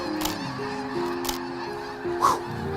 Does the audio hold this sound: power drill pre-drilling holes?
no